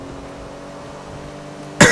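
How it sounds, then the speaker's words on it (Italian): A single sharp cough bursts out right at the end, loud and brief, after a stretch of low steady hum from the GTA IV game. "Oh mio Dio, ho la tosse"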